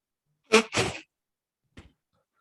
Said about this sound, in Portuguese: Escutaram daí a força do espirro?